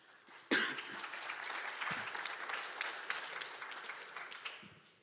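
A conference audience breaks into applause after a security talk, a sudden dense burst of clapping that holds steady and tapers off, with a cough or two mixed in.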